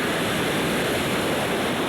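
Ocean waves breaking close to shore at a skimboarding spot make a loud, steady wash of surf that roars without a break and with no voices.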